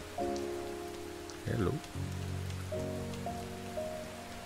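Steady rain patters in the background of the video game Rain under a droning musical score, with a brief burst of movement or splashing midway and a short spoken greeting.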